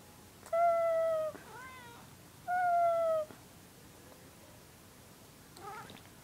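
A cat gives two long, clear meows a couple of seconds apart, with softer chirps between and a faint trailing sound at the end.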